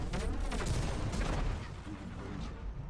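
Secondary guns on a World of Tanks vehicle fire in a dense burst of rapid, overlapping bangs and clatter, loud at first and then easing slightly, with a voice faintly underneath.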